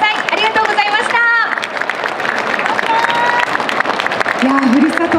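Big crowd applause at a taiko drumming stage show during the Furusato Matsuri festival at Tokyo Dome, steady dense clapping with crowd noise and scattered voices throughout.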